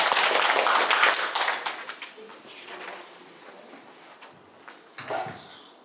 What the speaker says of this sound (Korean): 우리 홍진호 회장님께 다시 한번 힘찬 박수 부탁드리겠습니다.